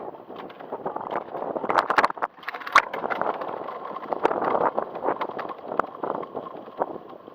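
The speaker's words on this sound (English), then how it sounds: "Oh, there's more wind than expected." Wind buffets a 360 camera microphone outdoors, a loud irregular rumble with uneven gusty bursts and crackling rustle throughout, close and unbroken.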